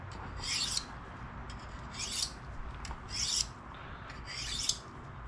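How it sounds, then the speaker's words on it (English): A kitchen knife is honed on a Gatco sharpener while deer is being butchered: four distinct, fairly close rasping strokes spaced about a second apart, each a bright gritty scrape, with no talking. "I love sharpening knives for some reason."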